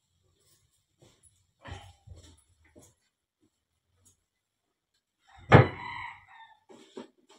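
A chicken clucks a few times in short, quiet bursts, followed by one louder squawk, against a mostly silent background.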